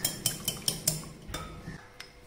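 Rapid metallic clicks of a utensil whisking two eggs in a bowl for mayonnaise, about eight quick strikes in an uneven rhythm, close and fairly quiet.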